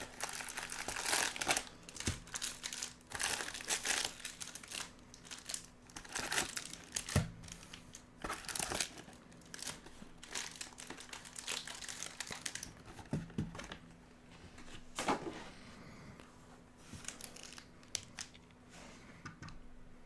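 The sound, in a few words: cutting and crinkling plastic wrap on a trading card box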